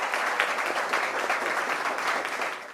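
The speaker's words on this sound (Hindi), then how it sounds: "तो आइए इनका बहुत ज़ोरदार तालियों से स्वागत करते हैं।" An audience at a discussion event on higher education gives a welcoming round of applause, a brief steady burst of clapping heard clearly and without talk.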